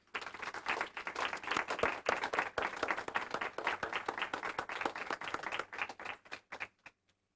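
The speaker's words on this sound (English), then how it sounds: "I think a tremendous round of applause is due for the kids" Sustained applause from an audience at a 1997 dedication ceremony honoring students, steady dense clapping for several seconds before it thins out and stops.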